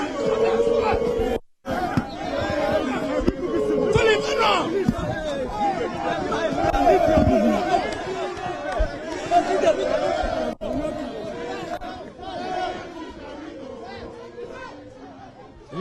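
An uncontrollable crowd presses in at a polling station during an election, loud overlapping chatter and shouting voices forming a dense, surging hubbub close by, with brief drops before the noise swells again.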